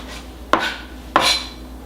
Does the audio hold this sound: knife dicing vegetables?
yes